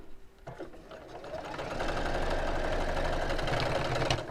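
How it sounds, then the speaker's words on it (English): A sewing machine stitches just beneath a seam, its steady close motor hum and rapid needle chatter building after a brief start and running continuously. "I'm sewing just underneath the seam"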